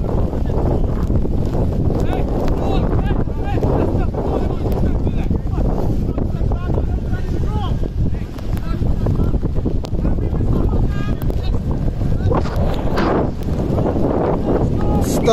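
Strong wind buffets the microphone outdoors at an amateur football match, a loud, steady roar that fills the whole stretch with only brief dips, and voices are faintly mixed in beneath it.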